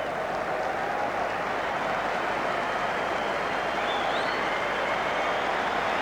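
Steady, fairly distant crowd applause fills a football stadium during a Motherwell versus Hearts match as a player is substituted, continuous and even throughout without talk.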